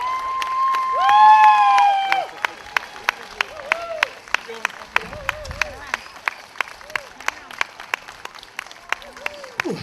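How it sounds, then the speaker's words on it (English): An audience at a street magic show at canal days in New Haven claps in a steady, even beat, sharp claps spaced regularly. Brief voices and tonal sounds come early on. "If you could keep clapping for just a"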